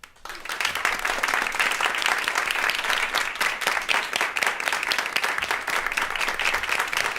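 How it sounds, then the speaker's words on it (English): A conference crowd breaks into sustained, dense applause as panelists walk onto the stage, rising quickly from near silence and holding loud and even. "please give our panelists a warm round of applause so it's not awkward when they come to the stage"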